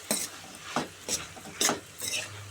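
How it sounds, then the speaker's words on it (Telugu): An eggplant and tomato curry with chilli powder and salt being stirred in a pan: a handful of spaced spoon scrapes and clinks over a faint sizzle, close and fairly quiet. "ఇప్పుడు కలుపుతాను."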